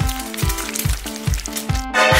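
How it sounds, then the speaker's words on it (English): Farm fresh eggs frying in a pan, a steady close sizzle with rhythmic low thumps underneath, loud and continuous with no talking. "Farm fresh eggs! Let's cook her!"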